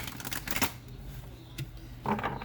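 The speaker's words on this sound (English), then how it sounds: "Alright, one more shuffle." Quick riffling bursts of tarot cards being shuffled close by, a couple of crisp flurries separated by short pauses, quiet room with no talking.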